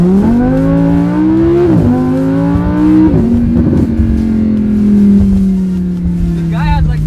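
A Lamborghini Huracan engine revs hard and loud, its pitch climbing through two quick upshifts before settling into a steady, throaty drone close by.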